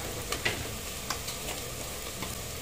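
Onions with a little salt sizzle and crackle in oil in a pot for dal khichdi, a steady close frying hiss with a few light stirring clicks.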